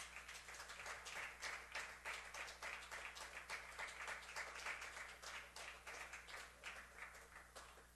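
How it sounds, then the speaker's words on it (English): A church audience claps steadily for several seconds in praise, a soft, even wash of many hands with a faint low hum underneath and no talking. "give him a hand clap of praise right now"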